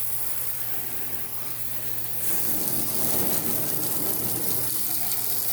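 Water hisses steadily from a garden hose fitted with a spray nozzle on well water, a continuous close gushing spray that grows louder midway and keeps running with no talking.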